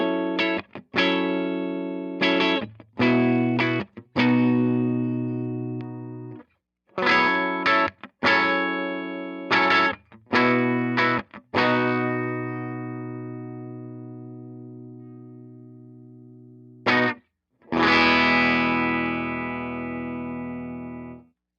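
A Gibson electric guitar on its neck pickup, played through a Tone King Gremlin amp, rings out in separate strummed chords and notes with pauses between, each sustaining and fading, fairly clean and alone.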